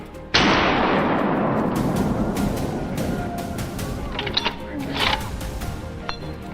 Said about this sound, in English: A crisp gunshot rang out the moment the target appeared.